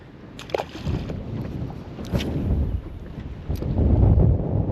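Gusty wind blows across the microphone on a small fishing boat, rising and falling in loud roaring buffets with a few sharp knocks.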